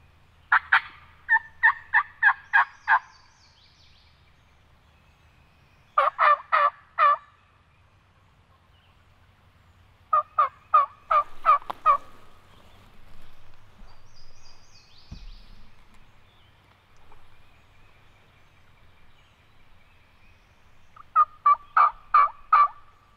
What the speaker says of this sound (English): Bird gobbling down here.